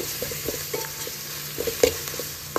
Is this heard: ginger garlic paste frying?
yes